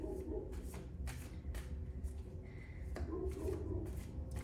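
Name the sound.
shuffling and drawing tarot cards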